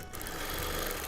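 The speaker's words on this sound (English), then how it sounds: "when I'm doing free motion quilting like this" A sewing machine runs steadily through free motion quilting on a Christmas table runner, a continuous close, even whir of rapid stitching with no pauses and no talk.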